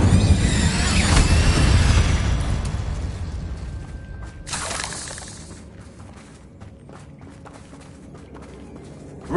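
Spell effects in Hogwarts Legacy burst out one after another, a heavy booming whoosh up front settling into rumbling crackle and a bright flare near the middle, loud then fading.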